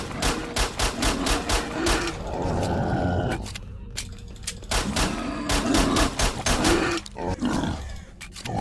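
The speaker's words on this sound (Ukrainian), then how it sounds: "Так, це ж кабани." Wild boars grunt and roar in the game S.T.A.L.K.E.R.: Shadow of Chernobyl, loud rough snorts mixed with rapid bursts of gunfire in a close, busy fight that continues throughout.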